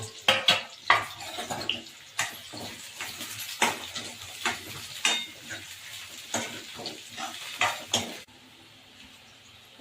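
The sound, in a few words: chopped onion, chilli, tomato added to hot oil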